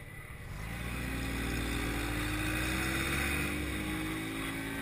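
A small Kuba Ege 50cc motorcycle engine drones steadily while riding, with a low continuous hum and a faint rising whine as speed builds, no voices.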